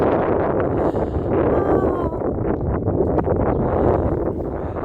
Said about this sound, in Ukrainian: Там все ще вітер надував.